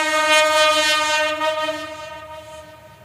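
A train horn sounds in a long sustained blast alongside the rumble of a passing train, loud at first and gradually fading over about three seconds, with no talking.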